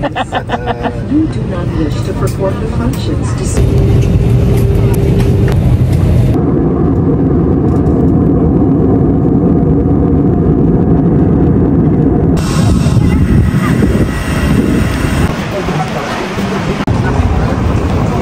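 A motorized tricycle engine drones steadily while riding toward a van terminal in Zamboanga, a continuous loud rumble with road noise and background voices throughout.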